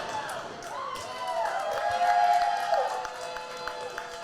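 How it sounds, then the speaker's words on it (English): An indoor wrestling crowd at an IZW championship match cheers and boos in a rising and falling roar, with sharp whistles cutting through near the middle. The crowd sounds moderately close and fills the whole space, with some bounce and thud sounds underneath. "the fans are cheering, the fans are booing"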